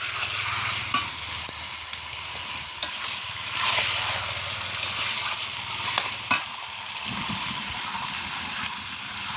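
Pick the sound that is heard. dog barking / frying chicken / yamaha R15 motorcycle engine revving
frying chicken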